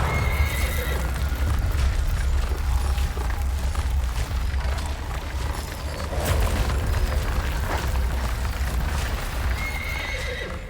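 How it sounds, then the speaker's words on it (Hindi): Horses pulling the Sun god's chariot neigh and whinny loudly over a steady clip-clop of hooves, with deep booming rumbles underneath throughout. "ये सूर्य देव का रथ था जिसे उनके सारथी अरुण चला रहे थे, जिनके रथ को सदैव 7 घोड़े ही खींचते थे"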